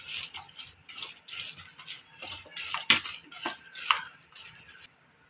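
Tap water running steadily while hands are washed at a kitchen sink after mixing rice-flour and potato snack dough, with uneven splashes and a couple of sharper drip-like spikes, no voices.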